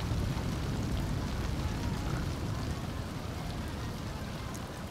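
Steady rain in The Sims 2 video game, a continuous dense hiss and patter with a heavy low rumble, even and unbroken throughout, with no voices.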